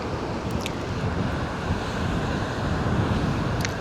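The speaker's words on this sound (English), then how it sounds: "Man, look at all that waves and muddy looking water." Huge storm-driven waves crash and surge on a beach with muddy water, a continuous heavy rumbling roar mixed with wind buffeting the microphone.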